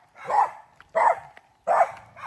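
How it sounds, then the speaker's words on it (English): A dog barks in three loud, evenly spaced single barks outdoors in Sto Tomas, Barotac Viejo, Iloilo, in the Philippines, with quiet pauses between them. "Dog's barking at me here"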